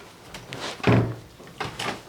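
A locked door in an abandoned bank being tried, a couple of rattling knocks and a heavier thud as it is pulled and shaken without opening, close and fairly loud, no talking.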